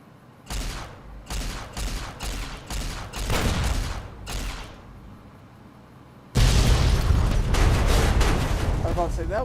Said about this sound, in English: that was a very underhyped explosion until the end